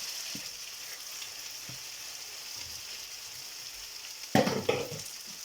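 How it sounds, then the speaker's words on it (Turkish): Liver fries in hot oil in a pan, a steady close sizzle broken by a few soft clinks and a louder spattering burst near the end. "Kızgın yağdı döküyor."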